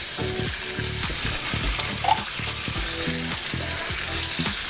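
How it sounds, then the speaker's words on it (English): Smash taco meat pressed onto a tortilla sizzles steadily in a hot pan, a close, continuous frying crackle with light stirring and scraping touches throughout. "Hear the sizzle."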